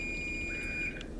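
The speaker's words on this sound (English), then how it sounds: "there goes my timer" A kitchen timer gives one steady, high electronic beep, held for most of a second and then stopping, close by over a low room hum, with no voices.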